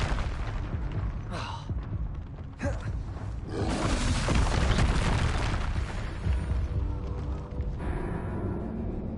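Spell blasts and fire bursts from rapid spellcasting in the Hogwarts Legacy video game, a dense run of loud booms, crackles and whooshes with a sustained noisy burst in the middle, close and continuous.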